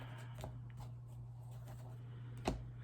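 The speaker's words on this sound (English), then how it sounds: "So I'll shuffle those around a little bit." A deck of tarot cards is shuffled by hand in a quiet room, giving soft papery riffles and taps in a few short bursts, with one sharper snap near the end, faint and close.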